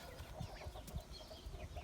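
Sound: chickens clucking

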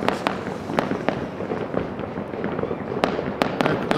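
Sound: New Year fireworks over the city

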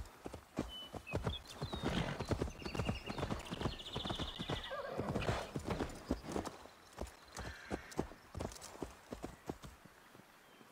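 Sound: horse hooves and whinny in Assassin's Creed Valhalla video game

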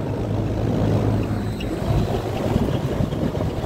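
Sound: rooftop HVAC unit condensing fans running, compressor rotating backwards

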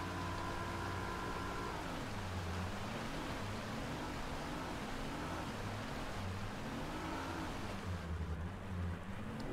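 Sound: boat motor in a video game

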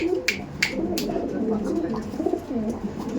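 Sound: pigeon cooing

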